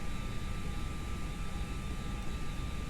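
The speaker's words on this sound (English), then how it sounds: "this is the CFM sound pack for the IAE engines" CFM engine sound pack playing on an Airbus A319 in a flight simulator, a steady faint jet roar with a thin whine held throughout, unchanging and without speech.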